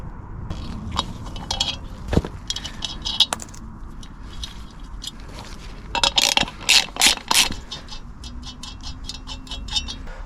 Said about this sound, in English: And then we can wind these studs in with some thread lock.